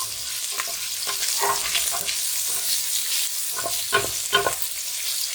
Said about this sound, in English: So we're just sort of moving around, letting them brown a little bit.